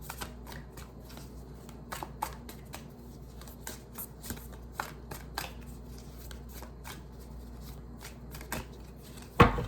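A tarot card deck is shuffled by hand up close, a run of quick crisp riffles and taps in irregular bursts, ending with a sharper card snap in a quiet room.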